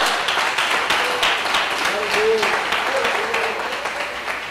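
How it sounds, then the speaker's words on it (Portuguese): Congregation applauding during a church service, a steady dense wash of clapping throughout, with voices and some sung or called-out tones mixed in. "Aplauda ao Senhor com o seu melhor"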